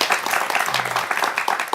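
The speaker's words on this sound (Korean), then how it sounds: "한번 박수를 쳐드려야 되지 않을까요?" Studio audience on a Korean talk show bursts into brief applause, a quick, bright patter of many hands close by.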